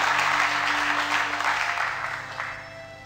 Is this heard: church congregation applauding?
yes